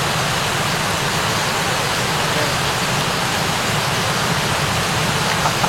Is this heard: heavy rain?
yes